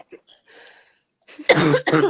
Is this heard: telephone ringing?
no